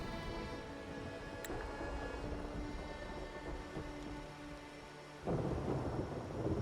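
Steady rain pours in a stormy scene in the Wuthering Waves video game, with rumbling thunder rolling underneath and a sudden louder surge of rain and thunder near the end.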